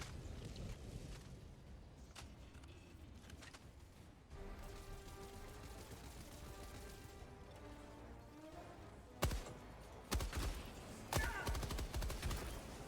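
Gunfire in the video game Helldivers 2 comes in dense bursts over a steady rumbling backdrop, with a few sharper, louder volleys toward the end and no one talking.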